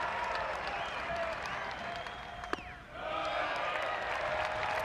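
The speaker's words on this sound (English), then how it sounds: "The crowd's going to stay there. They're going to always provide the energy for him." Fans at a college baseball game between Wake Forest and East Carolina applaud and cheer in a sustained roar, dipping briefly before swelling again, with an announcer talking over the noise.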